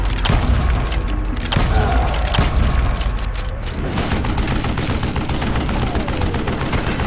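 Rapid bursts of western-style gunfire ring out in the Call of Juarez Gunslinger video game, sharp reports layered over a continuous dense action soundtrack with no pauses.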